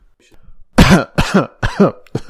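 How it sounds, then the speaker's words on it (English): A person clears their throat several times in a row, with gruff, rasping bursts close to the microphone. "Sorry, I had to clear my throat there."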